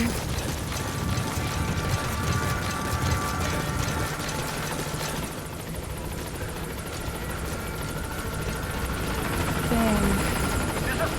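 A helicopter in Metal Gear Solid V approaches a landing zone, its rotor a loud, continuous chopping drone throughout, with a voice faintly present in the mix.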